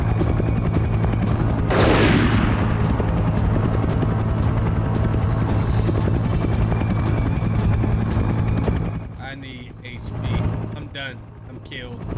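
Helicopter in the PS2 game Dead to Rights, a loud steady rotor drone with a swooshing pass and a boom early on, then gunfire-like bursts as the chopper noise drops toward the end.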